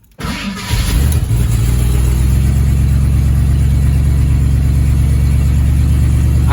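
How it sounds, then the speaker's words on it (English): An old truck engine cranks briefly and catches, then settles into a loud, steady running idle with a low throbbing hum that goes on to the end, with no voices. "start the truck up and see if the heater hoses get hot"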